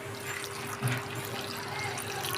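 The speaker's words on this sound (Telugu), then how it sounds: "కొంచెం వాటర్ పోసుకుంటున్నాను కొంచెం ఉడకబెట్టుకోవాలి" Water is poured from a vessel over freshly chopped vegetables in a cooking pot, set to boil for a chutney; a short soft trickling splash, close and fairly quiet, with a faint steady hum behind it.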